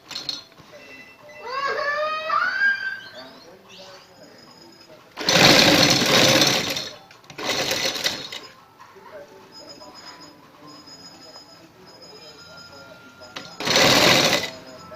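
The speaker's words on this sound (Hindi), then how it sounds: "साथ साथ इसके किनारे पे सिलाई लगाएंगे।" Sewing machine stitching the edge of a fabric neckline design, in several loud bursts of rapid mechanical running separated by pauses, close to the listener, with someone talking softly between runs.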